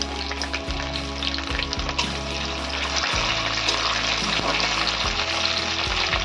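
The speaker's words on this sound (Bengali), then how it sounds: "এবার টমেটো কুচিগুলো দিয়ে দেব" Chopped tomatoes hit a pan of fried onions in oil, producing a continuous loud sizzle with occasional spatula scrapes and stirring knocks, close up and without any talking.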